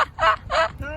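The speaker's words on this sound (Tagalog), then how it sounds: "I heard a bird." A close bird call, a turkey-like gobbling cry repeated in two loud bursts and then a softer third, heard alone without talk.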